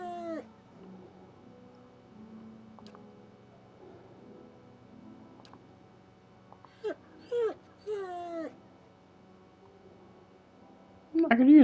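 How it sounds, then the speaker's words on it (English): Black hound dog in the video game Pillars of Eternity whimpers and whines in a series of high, wavering cries over quiet ambient music, ending in a louder yelp. "Dog Peters picks it up and trots over to you and barks happily. Yay! We have the black hound."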